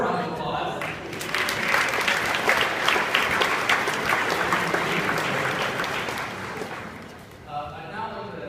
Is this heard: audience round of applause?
yes